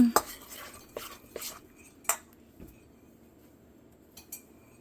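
A utensil stirs muffin batter in a bowl, producing close, irregular clinks and knocks against the sides spaced about a second apart, with quieter soft scraping between them.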